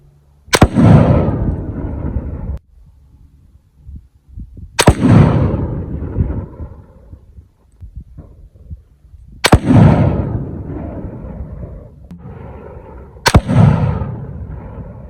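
.308 rifle shots fired down range, four sharp loud cracks spaced a few seconds apart, each followed by a booming echo that dies away, close to the listener with no talk.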